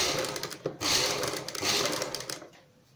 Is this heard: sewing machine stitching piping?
yes